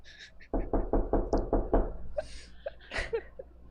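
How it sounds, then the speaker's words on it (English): A quick series of about six evenly spaced, solid knocks on a house door, loud and close, followed by a few faint scattered sounds. "Here we're outside their house and there's a knock."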